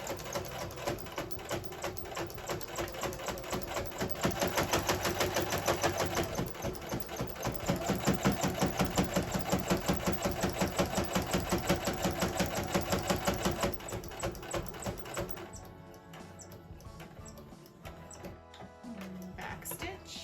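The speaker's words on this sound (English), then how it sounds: "So I'm just gonna do a simple straight stitch, put my needle down, go twice, and then back stitch." A Brother PE800 sewing machine runs a straight stitch through Christmas stocking fabric, a loud, steady, fast mechanical chatter up close that carries on for most of the stretch before easing off near the end.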